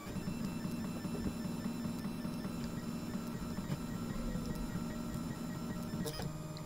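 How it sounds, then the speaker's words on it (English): Stepper motors on a Printrbot Simple 3D printer whir in a steady, continuous buzzing drone with faint rhythmic pulsing, close and uninterrupted, ending in a brief clatter. "But the stepper motor is working"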